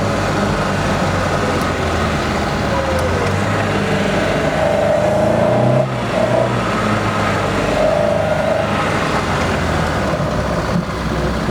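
A 1967 Opel Rekord on small tyres accelerates from inside the car, its engine drone rising steadily and loud for the whole stretch, with road and wind rumble underneath and no talking.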